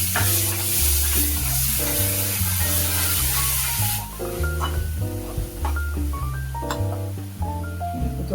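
Ground masala paste for a Konkani-style cashew curry fries in oil, sizzling loudly and continuously while a spoon stirs it in repeated scraping strokes, up close with no talking.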